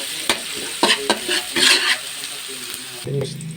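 Garlic and onion sautéing in a pan for pancit guisado, a close sizzle overlaid by repeated spatula scrapes and clacks against the metal.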